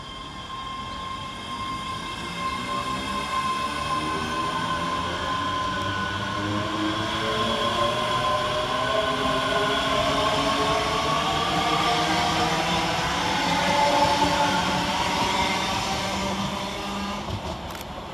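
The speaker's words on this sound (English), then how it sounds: "Departed over on the far side is 385043 and 385027, working the 1226 ScotRail service from Glasgow Queen Street to Alloa." ScotRail Class 385 electric trains passing through Bishopbriggs station, a loud, sustained rolling rumble with rising and falling motor whine and wheel noise that swells as the units run past and fades near the end.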